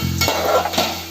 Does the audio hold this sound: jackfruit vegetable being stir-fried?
yes